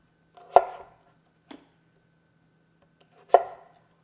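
A kitchen knife chops thick-cut zucchini on a board: two sharp, close thuds with a faint tap between, about three seconds apart, with no talking.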